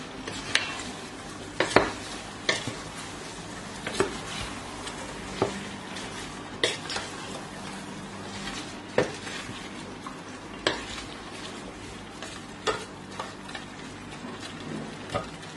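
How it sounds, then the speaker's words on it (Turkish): Green beans with tomato sizzling in a pan while a spoon stirs them, giving irregular scrapes and clinks against the pan over a constant frying hiss, close up and with no talking. "Şöyle bir karıştıralım."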